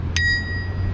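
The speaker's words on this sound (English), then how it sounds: "and a bell." Bell on a Beyond SV1 electric scooter rung once, a single bright ding that rings on and fades over about a second, close by over a low background hum.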